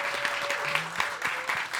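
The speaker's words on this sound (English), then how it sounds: "Round of applause." Dense applause from a live show audience at the Stockholm Major, steady clapping throughout with a few brief tones and murmurs mixed in.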